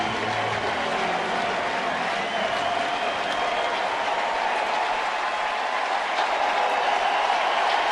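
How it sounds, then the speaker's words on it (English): Fans at a Cubs–Cardinals baseball game give a long standing ovation, a broad, steady roar of cheering and clapping from the stadium crowd that fills the distance without letting up. "A very classy move by Joe Madden to get David Ross one last ovation here in his final regular season home game."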